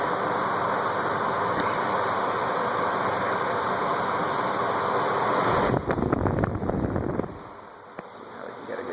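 A Fanimation Beckwith ceiling fan, model FP7964BN, spins down, giving a steady airy whoosh that runs on before a burst of handling bumps and a quieter tail near the end.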